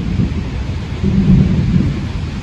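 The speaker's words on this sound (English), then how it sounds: "Now we've got lightning and thunder. Bunch of rain." A thunderstorm with heavy rain pouring down hard during hurricane weather: a dense, steady hiss of rainfall with a deep rolling rumble of thunder that swells midway and lingers, close and loud with no voices.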